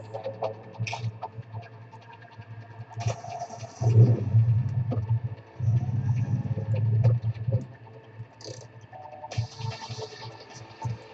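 Car engine in an Unreal Engine 4 game demo, a low throbbing hum that rises into two louder revving bursts before settling back to a steady idle drone, with small clicks scattered over it.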